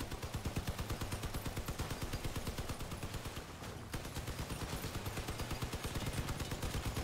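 Vehicles blowing up amid rapid gunfire in the online car combat game Crossout: dense, relentless bursts of automatic weapon fire pound steadily throughout, with a brief dip before the barrage resumes at full loudness.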